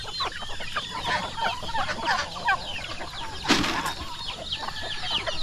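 A flock of farm chickens, kept with turkeys and geese, cluck and chatter nonstop around feeding time, with a burst of wing flapping partway through, close and busy, with no talking.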